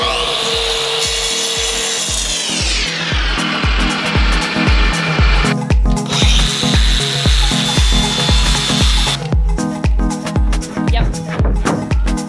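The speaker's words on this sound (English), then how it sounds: "You're way better with the jigsaw than I am." Jigsaw cutting coin grip flooring inside a Sprinter van conversion, a loud rapid buzzing blade chatter that runs steadily with shifting pitch, then breaks into choppy bursts near the end.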